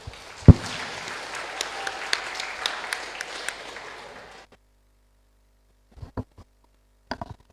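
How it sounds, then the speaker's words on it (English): An audience at the final round of an English and Khmer public speaking contest applauds to welcome the next contestant, with steady, dense clapping for about four seconds before it stops. A few faint isolated clicks follow. "let's welcome our next contestant, Hun Kumpet, with a big round of applause."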